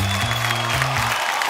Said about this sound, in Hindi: भाई तालियां बजती रहनी चाहिए।